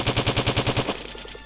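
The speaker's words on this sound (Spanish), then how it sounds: "Esto ha sido un terremoto, una explosión" In the video game Ocean's Heart, an explosion or collapse rumble sounds as about eight rapid, evenly spaced booming pulses, loud and close, then trails off into a softer, fading rattle.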